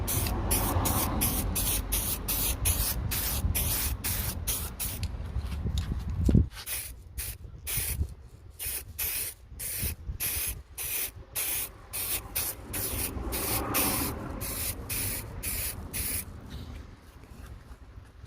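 Aerosol spray paint hisses onto a peeling BMW e60 5 Series steering wheel for a final coat, in many short close bursts and a few longer passes, with no talk.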